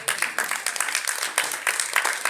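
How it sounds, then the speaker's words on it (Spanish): A church congregation clapping their hands together in rhythm during a service, a quick steady patter of many hands, fairly loud and without talk. "¿Cuántos le dan palmas al Señor?"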